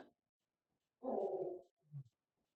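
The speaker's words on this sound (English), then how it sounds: "You hear a growling." A creature's growl sound effect plays during a tabletop Call of Cthulhu horror session: one rough, snarling burst lasting under a second, followed by a shorter low rumble, set against near silence.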